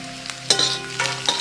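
Garlic, about eight to ten cloves, and onion sauté in a pan for crispy vadas, giving a steady close sizzle with a few sharper stirring scrapes and crackles throughout.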